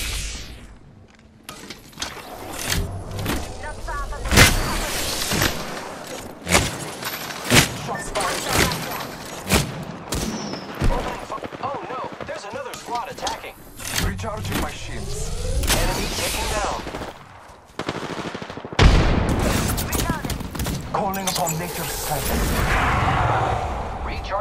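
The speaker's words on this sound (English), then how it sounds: "I am taking fire." Repeated sharp weapon blasts and thuds in an Apex Legends battle, coming in irregular bursts with brief lulls, loud and close, mixed with other game effects and a voice speaking in between.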